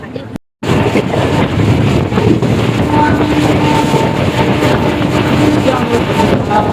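A superfast express train rolls along the rails, slowing down near a station, with a steady, loud rumble and faint clatter of wheels throughout, briefly cut by a short gap near the start.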